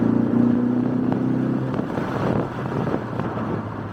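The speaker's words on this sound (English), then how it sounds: "so I'm kind of used to the EcoBoost 4-banger sound." A 2020 Ford Mustang EcoBoost High-Performance Package with its four-cylinder engine is heard driving, a low steady drone with a brief tonal hum at first, under wind and road noise.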